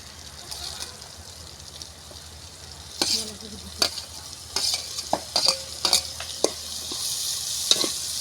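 Pieces of dried fish tipped into a pan of frying onion curry and stirred, with soft sizzling throughout and a series of sharp scraping and clattering stirring strokes in the second half, no talking.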